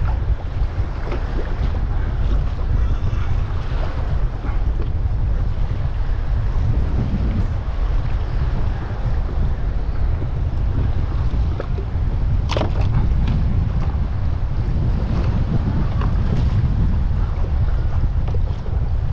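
Strong wind buffets the microphone over a steady wash of sea surf on a beach, broadband and continuous throughout with no voices.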